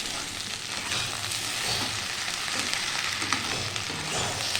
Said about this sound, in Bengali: এই যে ঢেঁড়স দিয়ে দিলাম, এবার হচ্ছে ভাজাটা।